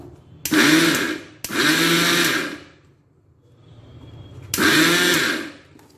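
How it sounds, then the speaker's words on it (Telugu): A kitchen mixer grinder whirs in three separate loud bursts, each a few seconds long, as it grinds a batch of spices for a stuffed brinjal curry. Short quiet gaps fall between the runs. "ఇవన్నీ ఇందులో వేసుకొని మిక్సీ పట్టుకుందాం మనం"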